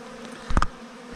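Honey bees around a 20-frame hive in August, one passing buzz swelling loud and close for a moment over a quiet background hum.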